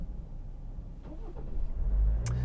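A 2024 Ford Ranger Wildtrak's 2.0 EcoBlue diesel restarts through its start-stop system: a quiet idle-like rumble gives way to a brief starter crank and a low engine catch that swells and settles into a steady hum.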